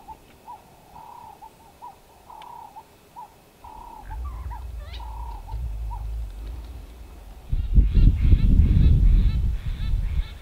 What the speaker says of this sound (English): this one is the youngest bird in this flock, also known as a phalanx of southern ground hornbills